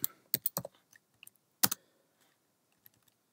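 Sparse keystrokes on a Mac desktop keyboard typing a search into Google, a few quick clustered clicks with one sharper tap and long quiet gaps.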